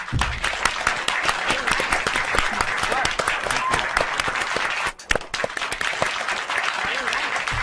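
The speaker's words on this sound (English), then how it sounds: "let's give a really big round of applause for Joseph D'Onofrio" A studio audience applauds a guest arriving on a talk show, dense continuous clapping filling the room at a strong level, briefly dipping near the middle before swelling back.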